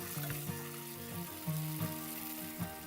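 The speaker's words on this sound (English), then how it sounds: "Now we will add tomato puree. Stir well." Tomato puree in a hot pan makes a low, steady sizzle. Soft scraping strokes come at a regular rhythm as it is stirred, close and fairly quiet.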